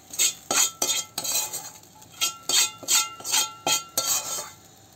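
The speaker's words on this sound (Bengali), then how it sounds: "এই যে আমি এখন এই যে পেঁয়াজ ভাজাটা দিয়ে দেবো এতে।" A metal spoon clinks and scrapes against a cooking pot as fried onions are stirred into sambar. The sound comes as a run of sharp, close clatters in irregular bursts, with no talking.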